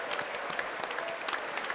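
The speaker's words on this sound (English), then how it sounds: "Everybody clapping like a bunch of dogs, like sheep in a herd who do not have the ability to think on their own." An audience claps continuously for the President of Ukraine's speech in a legislative chamber, a dense, steady wash of many hands with sharper individual claps popping through.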